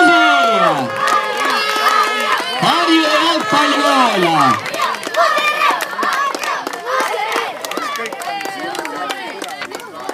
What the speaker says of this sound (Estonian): Ja teeme suure aplausi.